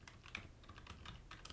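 A quick run of crisp keystrokes on a computer keyboard, close and fairly quiet, with irregular rhythm over a second and a half.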